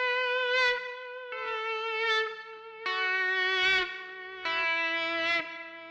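Electric guitar played through a Tech 21 Fly Rig 5 with a long delay: four sustained notes ring out one after another, each with bright harmonics and trailing repeats, alone and fairly loud.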